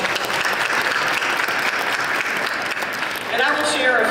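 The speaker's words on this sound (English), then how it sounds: "A big round of applause for these folks." Dense, loud applause from a seated and standing crowd at a legislative press event honoring a group of supporters, steady throughout with a few cheers rising near the end.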